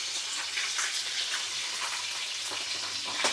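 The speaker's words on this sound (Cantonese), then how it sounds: "放少少油爆香佢先" Loud, steady close-up sizzling of food frying in a little hot oil in a wok, a dense crackling hiss with scattered sharper pops throughout and no voices.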